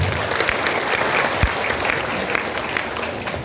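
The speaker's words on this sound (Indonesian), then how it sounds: "Tepuk tangan untuk beliau." Warm, continuous applause fills a school gathering honoring a thirteen-year-old girl who has memorized the whole Quran, dense clapping from a sizable crowd holding steady throughout.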